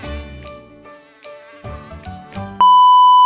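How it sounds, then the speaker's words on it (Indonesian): A mosquito, the kind that carries malaria parasites, whines with a thin, steady buzz layered over background music, ending in a sharp, continuous high beep. "nyamuk yang membawa parasit malaria yang bisa menularkan ke manusia"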